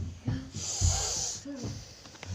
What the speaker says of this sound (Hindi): अब खर्राटा है ना?